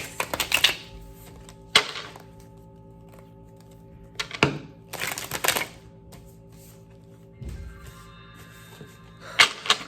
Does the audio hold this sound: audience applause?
no